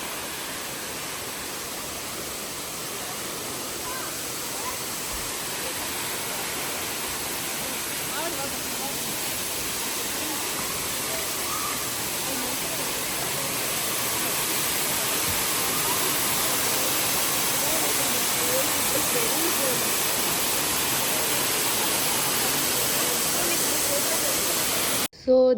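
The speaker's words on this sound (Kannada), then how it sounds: "so this is Sirimane falls" The Sirimane waterfall gives a steady, even roar of falling water that grows slightly louder as the listener moves closer. It continues for the whole stretch with no other distinct sounds.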